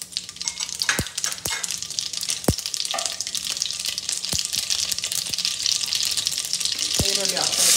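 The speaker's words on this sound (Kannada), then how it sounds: "ಎಣ್ಣೆ ಕಾದಿದೆ, ಸಾಸಿವೆ ಹಾಕ್ತಾ ಇದ್ದೀನಿ 1 ಸ್ಪೂನ್ ಅಷ್ಟು" Mustard and cumin seeds in hot oil give a soft steady sizzle broken by a handful of sharp, scattered pops, with no voices.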